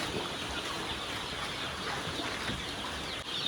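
Young chicks on a farm, a dense, steady chorus of faint peeping and rustling heard at moderate distance, with no voices over it.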